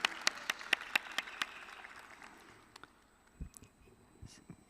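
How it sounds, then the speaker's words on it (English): A handful of sharp, scattered hand claps open the moment at a radiography, MRI, sonography and surgical technology pinning ceremony, then fade into quiet room murmur with faint sounds. "A big round of applause for all of the amazing radiography folks."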